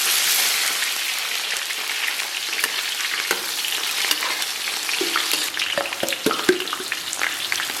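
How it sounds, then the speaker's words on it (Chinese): Scallion, ginger and garlic dropped into moderately hot oil in a wok, giving a steady, loud sizzle and crackle with scattered pops and occasional scraping of stirring. "接下来咱们给锅里边稍微来点油，油温4、5成热啊，咱们把葱姜蒜给它下里边"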